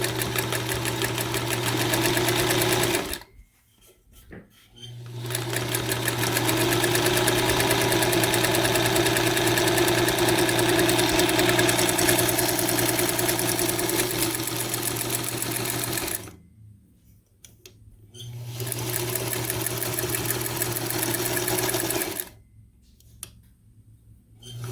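A vintage sewing machine runs after being fitted with a new belt and new bumpers on its base and foot pedal. It makes a steady, close mechanical whirr in long bursts, broken by short pauses where the stitching stops.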